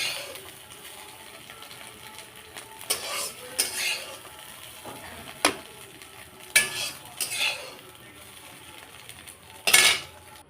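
Fried eggs being lifted out of the pan into a bowl, with a faint sizzle underneath and several separate clinks and scrapes of a utensil against cookware, the last one louder.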